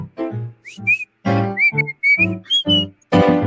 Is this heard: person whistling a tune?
yes